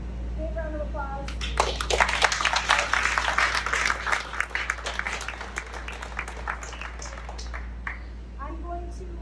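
An audience at a fitness challenge finale bursts into loud, dense clapping and applause that swells, holds for several seconds and then tapers off, with voices heard before and after it.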